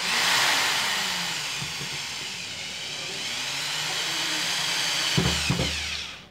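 A Bosch GSR 7-14 E drill driver drives screws of different types, a steady whirring motor that runs near and loud, then ends with a couple of sharp thuds as it stops.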